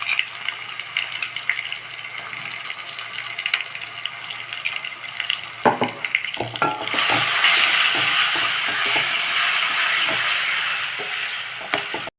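Ground masala paste and kasuri methi fry in oil while being stirred, a steady broadband sizzle that swells louder midway as the masala goes in, with occasional scraping knocks of a spoon against the pan.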